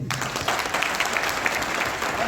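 Audience at a DXN Deoria Millionaire Express seminar applauds steadily for about two seconds, a dense even patter of claps throughout.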